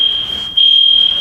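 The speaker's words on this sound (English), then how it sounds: "and that sets the fire alarm off" A fire alarm in a computer classroom sounds a loud, piercing continuous tone that briefly dips before surging back even louder.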